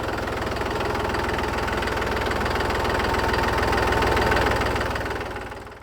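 A Mahindra tractor engine idles steadily and close by, a loud continuous diesel rumble with a fast, even knocking pulse and a faint rise in level toward the end, with no talking.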